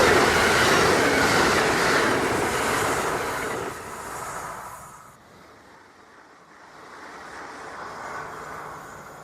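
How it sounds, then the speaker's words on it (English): A train rolls by on railroad tracks close up, a loud broadband rush of wheels and wagons that dominates the first few seconds, then drops off sharply as it passes and the noise fades to a quieter rumble. "The train's coming. It's on its way."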